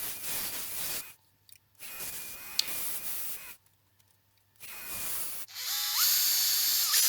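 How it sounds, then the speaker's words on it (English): A small drill bores a hole into the wooden stem of a turned marking gauge, short bursts of whirring separated by quiet pauses, close and moderately loud, with a final longer run. "Then I drilled a small hole in the stem"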